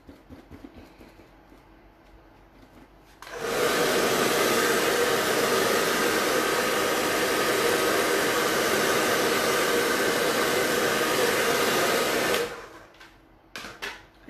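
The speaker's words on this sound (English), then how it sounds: "sorry for the noise because I am using this hair dryer to make it dry" Hair dryer blowing over decoupage on an MDF tea-light holder, switching on after a few quiet seconds and holding a loud, steady whooshing roar for about nine seconds before cutting off.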